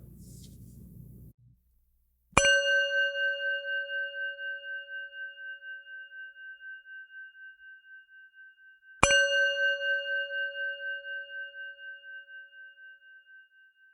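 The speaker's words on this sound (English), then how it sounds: "The show will begin after the following chimes." Two bright, resonant chimes open a meditation podcast, each struck once about six and a half seconds apart and left to ring out in a long, slowly fading tone over silence.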